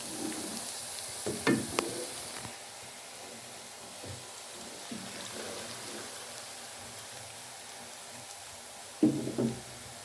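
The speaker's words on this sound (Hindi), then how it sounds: "देखें जी, प्याज हमारे हल्के ब्राउन हो रहे हैं।" Onions fry in a large amount of oil for chicken haleem, giving a steady soft sizzle with a few louder stirring scrapes and clinks near the start and again near the end.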